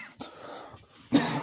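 Two short coughs, one near the start and a louder, harsher one near the end, with quiet breathy noise between them.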